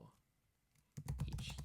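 Quick, close keystrokes on a computer keyboard begin after a near-silent pause and patter on steadily to the end, a loud, dense run of clicks.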